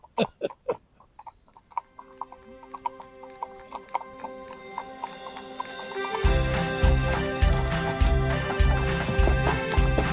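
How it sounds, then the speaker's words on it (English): Hooves clip-clop in a steady rhythm, sharp and fairly close at first, then joined by louder, denser background noise partway through. "The rhythm of the hooves as they touch the ground"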